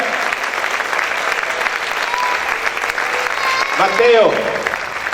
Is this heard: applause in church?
yes